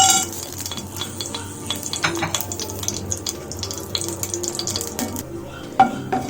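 Curry masala is stirred in hot oil in a kitchen pan, with a spoon scraping and clinking against the metal over a soft sizzle, close and moderately loud, ending with a sharper tap.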